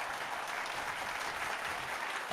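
A crowd gives steady, even applause throughout, a dense wash of clapping at moderate volume with no pauses.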